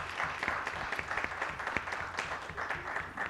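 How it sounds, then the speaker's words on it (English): Audience at a DC Ward 7 candidates' debate gives a round of applause, moderate and somewhat distant clapping with distinct individual claps standing out in an irregular rhythm. "Give them applause."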